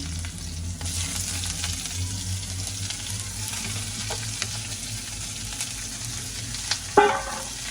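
Vegetables and khoa sauté in a pan with a continuous close sizzle, with stirring throughout and a sharp clink of a utensil near the end.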